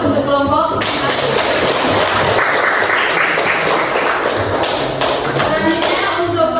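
A classroom group of students claps for a team that has just presented, a dense burst of applause lasting several seconds with taps and thumps mixed in, and voices are heard at the start.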